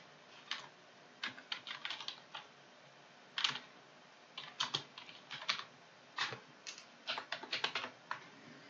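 Fingers type on a computer keyboard while entering purchase-order details, giving irregular bursts of crisp, quiet key clicks with short pauses between runs. No one speaks.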